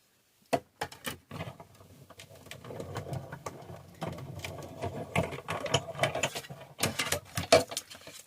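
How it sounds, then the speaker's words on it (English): A die cut machine runs paper through with a low, uneven mechanical rumbling and grinding, punctuated by sharp clicks and knocks, close and fairly quiet throughout, no talking. "run it through the die cut machine"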